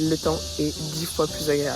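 Cicadas buzz steadily in the background in Beijing while a person talks over them.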